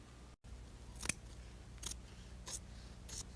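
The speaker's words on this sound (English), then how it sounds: "we'll make the correction by go ahead and slashing it from the center back over to the side seam to a pivot point" Scissors slash through a muslin pants shell in a few quiet, crisp snips spaced about a second apart, close and alone in a hushed room.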